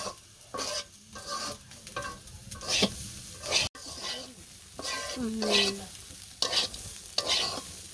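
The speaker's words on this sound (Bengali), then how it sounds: "আলু আর করলা ভাজি একসাথে মিশিয়ে ভাজ বানছি" Potato and bitter gourd fry together in a pan, a steady sizzle broken by repeated scraping strokes of a spatula stirring the pieces, close and moderately loud with a brief clatter partway through.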